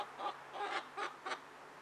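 A hen clucks nearby in four short, soft bursts spaced about half a second apart, quiet against a faint outdoor background, with no talk over it.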